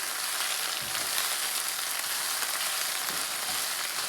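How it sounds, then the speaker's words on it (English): Onion rings fry gently in a pan for a lamb bhuna curry, making a soft, continuous hiss and fine crackle, steady and close, with a couple of faint stirring bumps and no voices. "we're going to gently fry that until it's slightly brown, not burnt, slightly brown"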